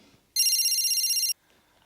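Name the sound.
telephone ringing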